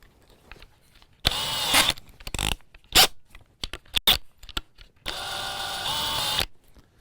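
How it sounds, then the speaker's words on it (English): A power drill whirs in two sustained bursts, drilling a hole through a cabinet handle jig, close and loud, with scattered clicks and handling noises between them and no speech. "I can go through with my drill"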